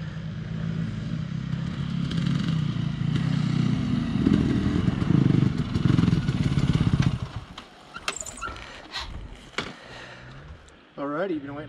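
A snappy, fast motorcycle rides by with an engine roar that holds strong for about seven seconds and then drops away. Voices talk nearby, more clearly once the engine fades.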